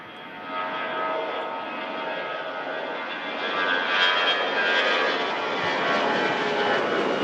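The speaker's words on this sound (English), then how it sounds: "First departure off 23 right on the departure route" A fixed-wing airliner departs Manchester Airport off runway 23 right, its engine roar broad and steady, rising slightly louder midway through as it climbs away, with no talk over it.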